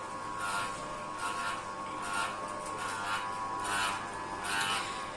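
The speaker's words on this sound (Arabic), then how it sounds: "ماكينة موديل 811 لعصر الحبوب واستخراج الزيوت" A model 811 electric soybean oil press, a small stainless steel kitchen-sized machine running on two-phase power, drones steadily with a broadband grinding hiss that pulses in roughly one-second surges, mid-level and continuous with no voices.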